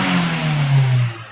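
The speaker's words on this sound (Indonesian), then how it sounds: "setelah separuh kita gas-gas dulu supaya kerak-keraknya terproses dan klep-klepnya tersetel sempurna" An old Toyota Avanza engine revs up with a low, rough drone, swelling and then easing off over about a second, close by.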